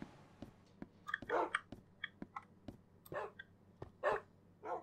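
Dogs in the Minecraft video game bark in quick, short yips scattered through the clip, close and clear against a quiet background, with no talk over them.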